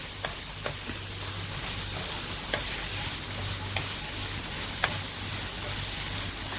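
Semolina fries with cardamom in a pan over medium flame, giving a soft steady sizzle with a low hiss, while a spoon stirs and taps the pan a few times.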